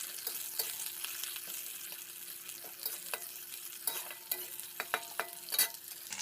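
Onion hits hot oil and is stirred in a pan, a continuous sizzle broken by sharp scraping and clacking stir strokes that grow busier toward the end, close and without speech.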